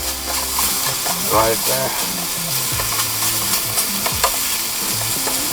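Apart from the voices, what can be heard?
bacon frying in a titanium pan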